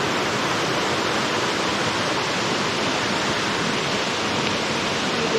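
A hill-station waterfall at Mainpat pours in a dense, unbroken roar of rushing water, loud and close, with no voices or other sounds over it.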